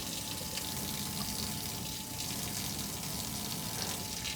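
Steady running tap water pouring into a sink during a surgical hand scrub while nails are picked, a continuous even hiss with no talking.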